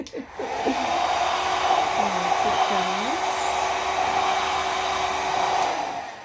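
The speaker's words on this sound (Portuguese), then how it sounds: "Esse secador também é ótimo, facilita bastante o nosso trabalho, né?" A hair dryer blows a steady, close hum and whoosh over a decoupage tin, running continuously for several seconds as faint voice-like tones flicker underneath.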